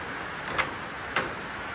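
Heavy rain in the Philippines, a steady, dense hiss that fills the whole moment, with two faint clicks over it.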